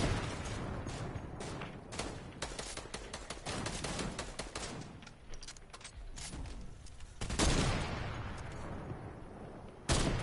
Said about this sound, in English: They're shooting us back,